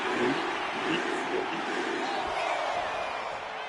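A wrestling arena crowd in the WWE 2K25 video game roars in a continuous, dense wash of cheering and shouting, loud and steady throughout.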